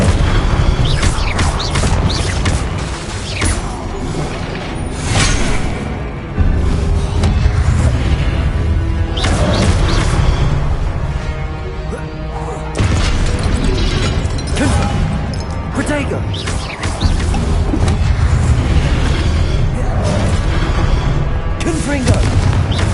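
Confringo spell explosions in the video game Hogwarts Legacy, loud repeated booms and blasts in dense succession over a continuous roar of combat effects, with voices shouting spell names throughout.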